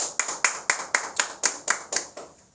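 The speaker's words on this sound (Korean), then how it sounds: "우리 예배를 받으신 하나님께 영광의 박수 올리겠습니다." A congregation claps during a church service in rhythmic unison, about nine sharp, evenly spaced claps, close and clear with no talking.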